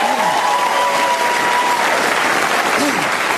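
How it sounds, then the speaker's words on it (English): Studio audience applause on a music panel quiz show, loud and continuous, with a low hum and faint tonal sounds beneath the clapping. "applause."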